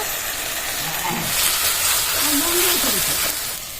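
Spices for a katla fish posto curry, with turmeric and ground poppy seed paste, sizzle and hiss steadily in a hot pan, a continuous close frying noise with faint clinks of stirring.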